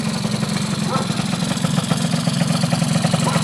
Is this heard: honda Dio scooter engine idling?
yes